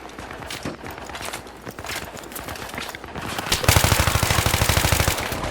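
Bursts of sustained automatic fire from a support-class light machine gun in the video game Battlefield 3, loud rapid rattling that grows heavier and denser toward the end, over busy battlefield noise.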